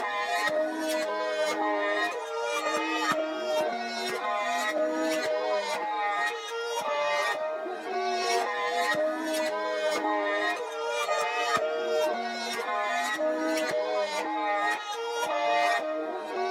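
A chopped, reversed intro sample pitched up an octave in a beat loops steadily as bright, shimmering tones with rapid rhythmic stabs, even and moderately quiet throughout.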